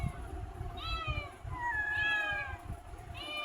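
House cats meow repeatedly, three drawn-out rising and falling cries spaced across a few seconds, fairly close over low rumbling background noise.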